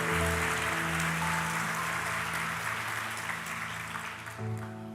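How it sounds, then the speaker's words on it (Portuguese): A church congregation applauds, steady dense clapping throughout with sustained organ or keyboard tones underneath, tapering slightly toward the end as the music shifts. "Aplauda Jesus mais uma vez."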